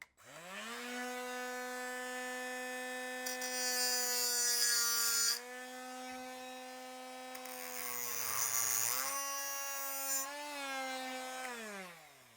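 A Harbor Freight BOLTR cutoff tool whines with a steady high motor pitch, near and loud, as hissing abrasive grinding bursts rise and fall while it cuts.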